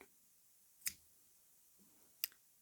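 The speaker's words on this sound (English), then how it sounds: "So I will just cut the yarn." Scissors snip through yarn in two crisp, faint clicks about a second and a half apart, against near silence.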